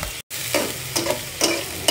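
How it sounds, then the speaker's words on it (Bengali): Tiny shrimp frying with onions in a pan for a lentil curry: a short dropout, then a steady sizzle punctuated by three rhythmic scraping stirs. "পেঁয়াজের সাথেই আমি চিংড়ি মাছটাও একটু ভাজা করে নিব"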